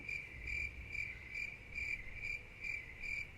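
Crickets chirp in a quiet, regular pulse, with short trills repeating about every half second against a faint background and no voices.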